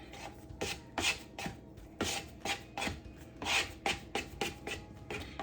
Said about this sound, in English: Here I'm going to use the scraper just to tuck the flour underneath there and keep it rolling.